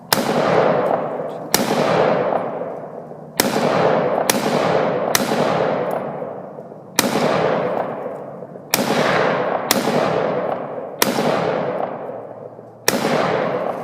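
Firearm gunshots at target practice, about a dozen sharp loud cracks at irregular intervals, each followed by a long decaying echo outdoors, no talking.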